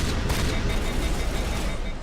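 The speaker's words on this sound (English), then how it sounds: "let's go with the shotgun for this section" Shotgun fire in the video game Mass Effect Legendary Edition, heard as continuous loud, dense blasts of combat noise filling the whole stretch without pause.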